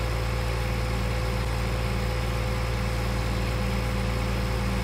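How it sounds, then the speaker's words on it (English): A tractor engine in Farming Simulator 2013 drones loudly and steadily at high revs, a constant dense mechanical hum filling the whole clip with no voices. "I love how the revs go up on the tractor."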